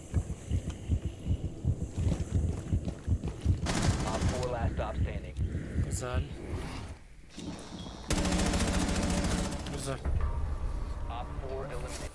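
Gunfire rattles in a ranked Rainbow Six Siege match: rapid, rhythmic shots come first, then dense bursts of automatic fire, with players' voices talking over the action.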